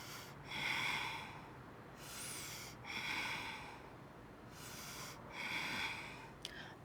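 Slow, audible breaths during a yoga plank hold: several long nasal inhales and exhales, close and fairly loud, repeating at an even pace with quiet gaps between them.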